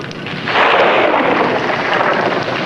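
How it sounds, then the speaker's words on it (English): Thunder of a rainstorm in a 1952 family sitcom, a loud, broad rumble swelling after half a second and rolling on steadily to the end, heard alone without talk. "Oh, it looks like we're in for a real storm."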